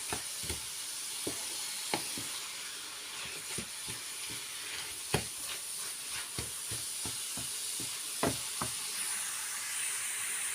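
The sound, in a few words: meat pie filling frying in a pan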